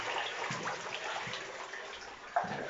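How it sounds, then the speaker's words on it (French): Waterfall in the catacombs, a faint trickling and splashing of water echoing in an underground tunnel, with soft irregular drips over a low steady wash. "La cascade, la fameuse cascade."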